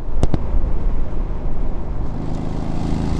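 An Aston Martin V8 Vantage engine drones steadily from inside the cabin, a low throaty hum with a couple of sharp clicks near the start.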